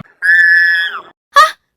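A girl lets out a long, high scream, close and loud, that trails off after about a second; a short sharp cry follows a moment later.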